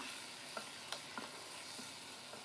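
Rinsed dried pickled mustard greens stirred with water in a pan after aromatics of cinnamon and star anise, a soft low simmering hiss with a few light utensil taps.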